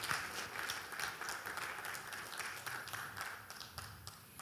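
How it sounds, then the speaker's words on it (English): An audience at a digital and data use forum claps for a departing questioner, a dense, even patter of many hands that holds steady throughout. "Please, a round of applause to him."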